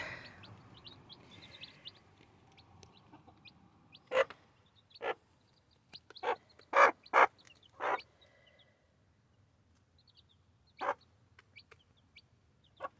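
Backyard chicken coop in rural Quebec with hens, including an Americana mix, giving several short, fairly close clucks and calls in bursts against a quiet outdoor background.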